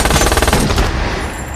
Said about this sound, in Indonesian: si Bullet pun juga menembak senjata ke arah Hill